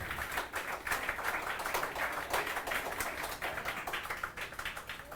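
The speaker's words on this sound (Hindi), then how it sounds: "ताली हो जाइए।" Sustained group clapping from students in a classroom during a physics lesson on resistor color codes, a steady dense patter of many hands at moderate loudness with no talking.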